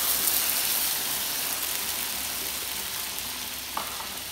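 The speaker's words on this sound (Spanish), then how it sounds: "Y en una cazuelita caliente vamos a agregar poquito aceite para guisar el jitomate que licuamos." Blended tomato hitting a little hot oil in a small pot, a steady broad sizzling and frying hiss that slowly fades, with a faint clink near the end.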